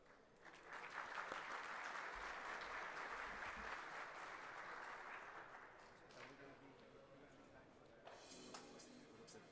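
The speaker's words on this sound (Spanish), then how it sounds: "Despidamos a nuestros expositores y presentador con un fuerte aplauso" Audience at an international security and defence symposium claps for departing speakers and the presenter, sustained applause swelling early and tapering after six seconds, with a voice and some scattered claps near the close.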